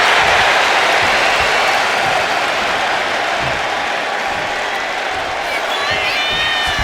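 An arena crowd in the WWE 2K25 wrestling video game roars and cheers steadily and loudly throughout, a dense wall of applause and shouting with faint whistles near the end.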